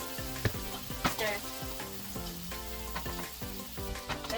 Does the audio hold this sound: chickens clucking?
no